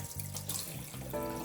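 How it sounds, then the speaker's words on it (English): Water runs from a kitchen tap into a sink while hands are rinsed under the stream, a steady close splashing rush with no break across the whole moment. "I'm gonna rinse my hands off though."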